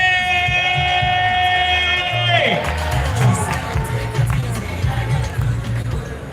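At a Trinbago festival show in Independence Square, a crowd claps and cheers for calypsonian Karine Ashe. A held, horn-like tone sounds first, then gives way to loud, rolling crowd noise with shouts and voices mixed in.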